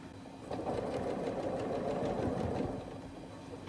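Close-up, a short burst of sewing machine stitching runs across quilt blocks with nested seams, its steady motor hum and rapid needle rhythm rising then easing off after a few seconds.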